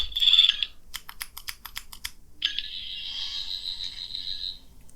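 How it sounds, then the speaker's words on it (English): A rapid series of electronic chirps is followed by a long, steady synthetic whooshing tone from a toy sonic screwdriver, held for a couple of seconds before fading. "It's a whooshing sound."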